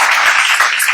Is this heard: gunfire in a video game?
no